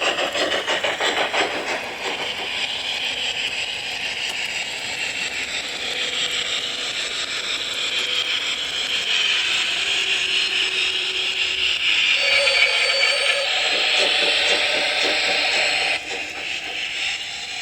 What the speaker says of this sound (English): the train comes out the station,